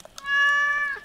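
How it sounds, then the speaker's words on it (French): A cat in the video game Stardew Valley gives a single clear, drawn-out meow, loud and close, rising then trailing off. "Oh, ah, c'est mon chat là."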